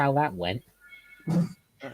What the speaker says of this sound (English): if you hear meowing in the background, that's one of my cats